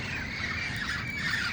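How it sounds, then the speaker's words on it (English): A flock of parrots gathered outdoors squawks steadily, a dense chorus of harsh calls at moderate distance over constant background noise with no talking. "They're parrots."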